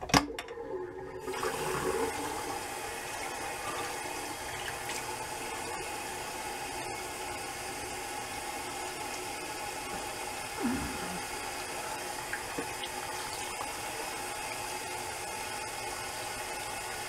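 Cold water running for a rinse after shaving with a Schick M2 razor and sandalwood soap: a steady, low hiss of flowing water throughout, with a light clatter at the start and a brief knock partway through.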